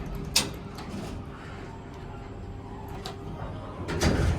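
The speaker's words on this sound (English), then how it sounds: "Let's close the door." The doors of a low-pitched Schindler 321A hydraulic elevator at a recreation center slide shut, a sharp clunk followed by a steady low rumbling slide and a thud as they close.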